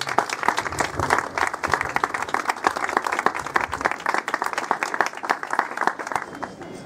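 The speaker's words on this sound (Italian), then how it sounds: "Chiamiamola con un applauso" Audience at an outdoor art event in Grado applauds steadily for about seven seconds, a dense, even crowd clapping that stays loud throughout with no speech over it.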